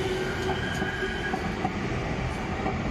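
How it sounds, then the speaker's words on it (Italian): A Valencia metro train rumbles steadily with faint wheel squeals and rhythmic clicks from the rails, sustained at moderate level, heard from aboard or close by, with no talk. "devono passare davanti al treno"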